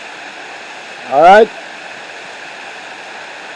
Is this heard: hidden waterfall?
yes